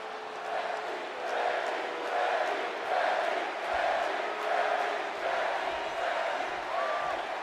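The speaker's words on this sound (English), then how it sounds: "Listen to this crowd, guys. They're fired up for this one." Arena crowd in the WWE 2K20 wrestling game cheering for a Becky Lynch versus Ronda Rousey match on Raw, a swelling, rolling roar with chants and whoops that rises and falls in waves.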